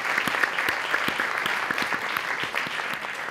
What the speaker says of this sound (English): let's give all of our teams another round of applause